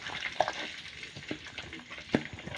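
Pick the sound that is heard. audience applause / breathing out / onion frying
onion frying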